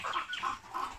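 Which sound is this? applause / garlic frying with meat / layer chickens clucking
layer chickens clucking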